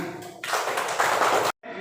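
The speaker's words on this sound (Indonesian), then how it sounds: "Tepuk tangan." Classroom applause, a short burst of many hands clapping at once, loud and close, stopping abruptly.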